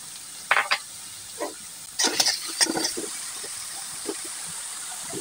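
Onions fry in a pan for a broiler chicken curry, giving a soft steady sizzle with a few louder stirring scrapes and splashes.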